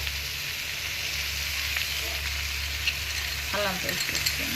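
Chopped tomatoes tip into a hot pan of mixed vegetables for rice and crackle into a steady, close sizzle, with a brief stirring clatter near the end and a voice speaking over it.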